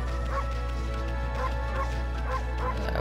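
Repeated cartoonish dog barks and yips from the video game Okami HD, several short bursts in a loose rhythm over a steady layer of game music and ambience.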